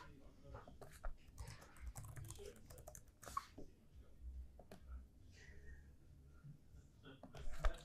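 Quiet, irregular clicks of typing on a computer keyboard while entering a passphrase, close and soft, with scattered pauses between bursts of keystrokes.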